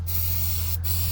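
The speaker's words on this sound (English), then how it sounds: "we just give it a shot of ether" A short, steady hiss of ether sprayed into the intake of a truck engine that won't start after sitting, with no smoke from the stacks, heard close and loud over a low constant hum.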